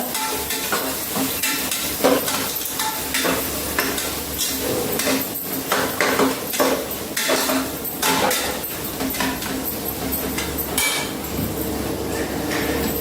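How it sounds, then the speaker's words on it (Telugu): Ginger garlic paste frying in hot oil, a steady sizzle with frequent sharp clinks and scrapes of a spoon stirring against the pan, close and continuous throughout. "అల్లం వెల్లుల్లి పేస్ట్ రెండు స్పూన్లు వేసినాం ఫ్రై చేద్దాం ఆయిల్ ఆయిల్లోనే ఫ్రై చేయాలన్నమాట"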